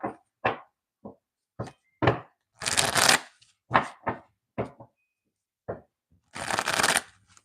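Tarot cards shuffled and handled in a series of bursts: short separate snaps and slaps mixed with longer riffling runs, close and clear with no talking.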